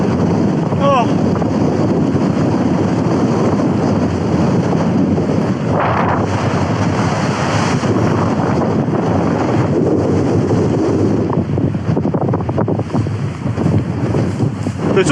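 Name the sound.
strong wind at a tent campsite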